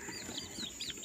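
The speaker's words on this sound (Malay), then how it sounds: "Saya dah pindahkan dah anak-anak ayam ni." Baby chicks peep in a brief, faint burst of high, rising chirps, a few overlapping calls heard close over a steady background hum, with no talking.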